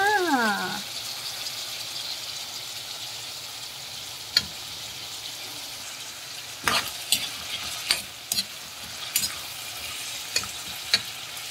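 Stirring tomato juice through dried fish escabeche in a pan, a soft sizzle and wet swirl at first, then a run of sharp spoon scrapes and clacks against the pan, close and alone.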